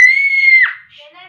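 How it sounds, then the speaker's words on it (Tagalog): A child lets out one loud, piercing, sustained scream lasting over half a second, then trails off into fainter, higher squeals at close range. "Tumitili ito."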